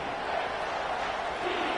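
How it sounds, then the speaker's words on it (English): A college football stadium crowd roars in a loud, continuous wall of cheering that holds steady from start to finish. "this crowd is tearing the lid off this place"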